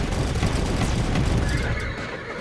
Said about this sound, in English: Oh no, not the horse.